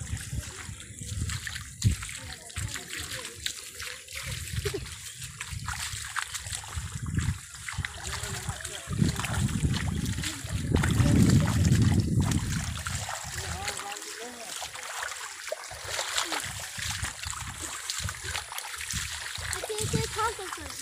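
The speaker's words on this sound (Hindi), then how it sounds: "देखो ये हमारा कुरसल गांव का नदी है," A flooded village river in Kursail rushes and splashes in a broad, continuous wash of water, swelling louder midway, while someone speaks over it.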